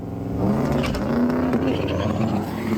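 A Ramcharger drag race car making a pass with traction control engaged: a loud, sustained engine roar that rises in pitch, heard at close range with no talking.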